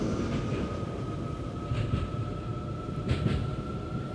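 A simulated train in the Open BVE train simulator game rolls as it accelerates, with a steady low rumble, a constant high tone, and a few faint clanks over the continuous noise.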